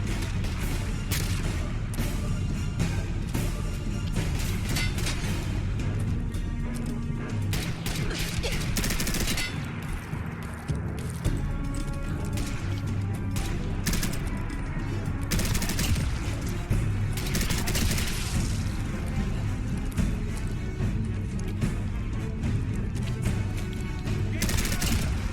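Gunners exchange gunfire in the video game Fallout 4, with dense bursts of shots and fusillades in rapid, uneven rhythm, loud and continuous, while a voice talks over it.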